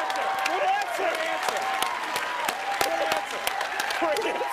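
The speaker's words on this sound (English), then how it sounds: "you're clapping harder than anyone" A Family Feud studio audience applauds in a dense, sustained burst of clapping with some cheering, the crowd noise steady throughout and voices mixed in underneath.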